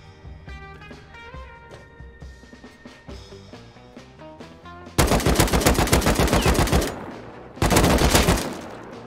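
Gunfire in the video game Rust: rapid automatic bursts ring out at close range and loud, two separate strings of shots with a pause between, after quieter clattering and game sounds.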